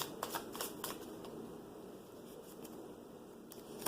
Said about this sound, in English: I'm actually going to shuffle until either a card flips out or a card definitely wants to come forward